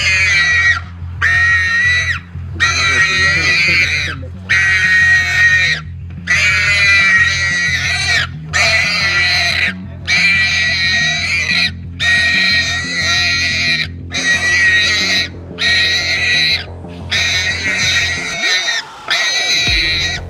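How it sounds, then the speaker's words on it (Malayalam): A pig caught by hunting lionesses squeals loudly and repeatedly in harsh, shrill bursts with short gaps, close and continuous over a low rumbling background. "ചത്തതുപോലെ കിടന്ന പന്നി നിലവിളിക്കാൻ തുടങ്ങി"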